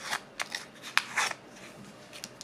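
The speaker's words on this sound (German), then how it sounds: "nehmen wir so eine Schere mit einer scharfen Kante und einfach vorsichtig" Sharp-edged scissors drawn along a paper petal to curl it for a handmade paper flower, giving a few brief dry scraping swipes, close and quiet, with no talk.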